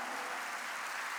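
A congregation at a church worship service breaks into dense, continuous applause, heard fairly faint and even throughout, with no speech.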